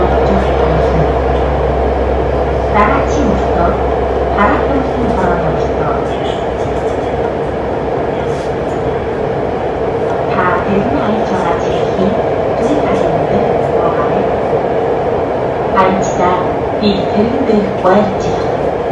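Subway train running on a metro line in Hohhot, bound for Baita Airport, a steady loud rumble and rolling rattle of the carriages throughout, with a recorded voice making trilingual announcements over it.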